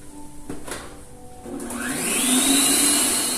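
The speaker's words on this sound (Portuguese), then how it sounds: "Então vamos colocar aqui na batedeira os ovos e vamos começar os trabalhos." An electric stand mixer beats five jumbo eggs to stiff peaks for a decades-old cake recipe. After a few clicks, its motor whine rises steadily and runs on, close and fairly loud, with no voices.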